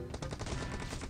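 Rapid automatic gunfire from the mobile battle royale game PUBG Mobile rattles in a quick, even burst of about ten shots, loud and close with no talking.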